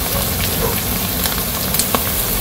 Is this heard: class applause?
no